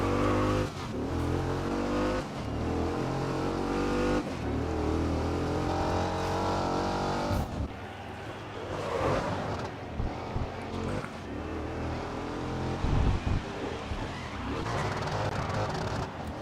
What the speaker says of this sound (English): It's because I'm over revving. I'm not shifting.